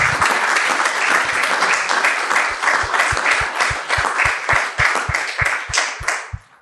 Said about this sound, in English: the audience didn't have to ask to applaud you. They did it spontaneously